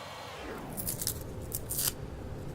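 Scissors snip through material in a quiet room, a short run of several quick, crisp cuts close by.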